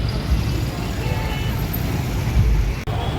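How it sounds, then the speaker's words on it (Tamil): Traffic jam on a Bangalore road: a steady, dense wash of idling cars, buses and trucks close by, with a faint horn toot somewhere in the mix. "இந்த ஒரு டிராஃபிக்கில் 3/4 மணி நேரம் நின்று நண்பர்களே"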